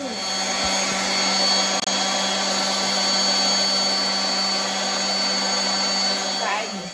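A power sander runs on a closet during a sanding job, a steady loud whirring drone with a high whine that holds for about seven seconds before easing off.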